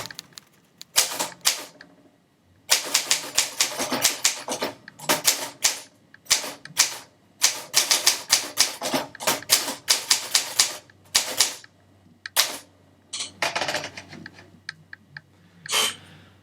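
An Olympia SM9 manual typewriter being typed on, with sharp mechanical key strikes in quick irregular bursts and brief pauses, a carriage-like rumble near the end, close and loud with no talking.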